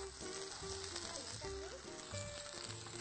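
Sliced kohlrabi and carrot sizzle in a dry hot pan after a couple of spoonfuls of water go in, a steady, faint frying hiss with light stirring throughout.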